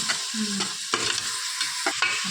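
Ginger paste sizzles and crackles in hot ghee in a pan while a spoon scrapes and stirs it in quick strokes, close up.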